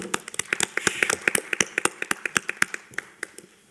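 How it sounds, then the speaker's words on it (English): Scattered applause at a budget hearing, a small group's individual handclaps ringing out sharply and distinctly in an uneven rhythm rather than blending into a wash. "That's worth a round of applause."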